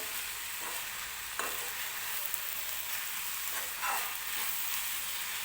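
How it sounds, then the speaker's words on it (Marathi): Green onion bhaji cooks in a pan with a steady sizzle and frying crackle, while a utensil scrapes and stirs through it at intervals. "तर हे बघा व्यवस्थित मिक्स करून घेतलेलं आहे मी मीठ टाकल्यानंतर."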